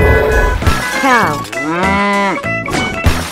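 A cow moos loudly and close up in a few drawn-out, bellowing calls that rise and fall in pitch over a few seconds.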